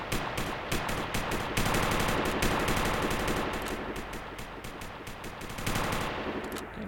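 Rapid automatic gunfire in a CryEngine 5.4 shooter game, dense bursts of shots rattling almost continuously, loud and close with no talking.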